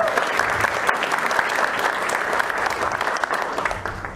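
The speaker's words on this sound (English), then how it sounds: "so a big round of applause for those guys, please" A roomful of people applauds representatives of Metro Parks Tacoma at a soccer club announcement, steady dense clapping filling the room throughout before easing slightly at the end.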